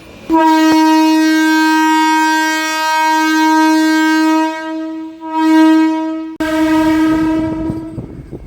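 A MEMU passenger train on the Rajahmundry to Bhimavaram line sounds a long, loud, steady horn blast that dips and swells, cuts off briefly, then resumes over rumbling wheels.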